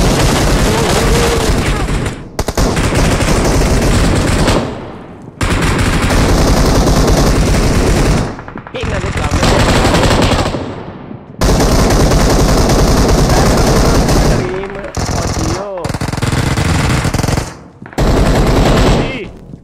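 Long bursts of automatic gunfire from PUBG Mobile, loud and close, broken by brief pauses and mixed with booms and explosions, while players talk over the shooting.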